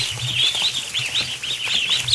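Ducklings in their pen give a steady stream of rapid, high peeping calls, close and continuous, with soft low shuffling beneath.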